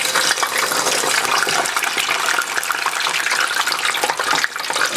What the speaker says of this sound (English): I did cut my yam into smaller pieces and bigger pieces. So I'll try to fry the bigger pieces first